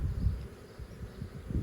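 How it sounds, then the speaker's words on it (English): A honeybee swarm clusters around a hive box in a home beeyard, producing a low, steady hum with gentle pulsing swells, close by and uninterrupted by voices. "There's so many bees still adhering to all this area"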